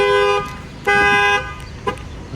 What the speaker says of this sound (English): You're gonna see that the factory alarm is gonna set off this time.